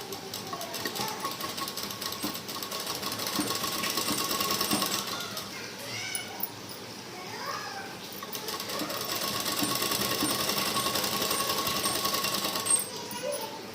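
A sewing machine runs steadily and close, stitching fabric for the elastic of a pair of pants, with a continuous rapid mechanical whir and brief pauses in rhythm.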